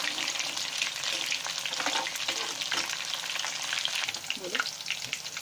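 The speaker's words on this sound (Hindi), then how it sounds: "हम ऐसे डीप फ्राई किया है अभी देखिए ब्राउन हो रहा है" Egg-battered chicken pakora deep fry in oil with a dense, continuous crackling sizzle close up, with occasional stirring and bubbling bursts.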